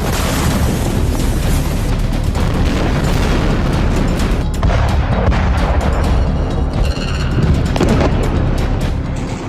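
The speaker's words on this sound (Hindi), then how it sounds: "बम की बरसात थम नहीं रही है। लगातार धमाके हो रहे हैं" Continuous heavy blasts and booming explosions from bombing across Gaza during the Israel–Hamas war, dense and loud throughout with overlapping rumbles and sharp bursts, no speech.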